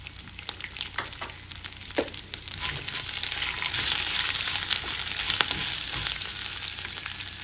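Dried red chillies, garlic cloves and chopped ginger fry in hot oil, a bright crackling sizzle that swells and grows steadier, dotted with sharp pops and spatula taps, heard up close without speech.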